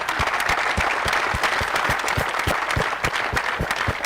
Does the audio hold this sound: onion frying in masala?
no